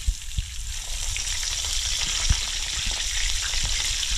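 Yellow jack fish fries in a pan with a continuous bright hiss of sizzling oil and a few soft knocks and spatters, heard close and steady without speech.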